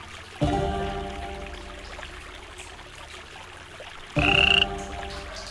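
A toad-shaped door handle in a video game gives a loud croak when used, then a second croak a few seconds later over faint background ambience.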